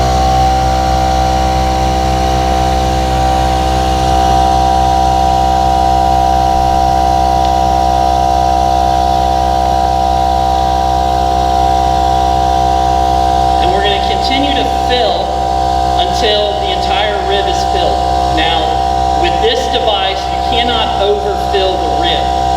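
An air compressor fills a camel lifting cushion with a loud steady hum and constant tonal drone, joined partway through by irregular squeaks and rustling from the inflating cushion.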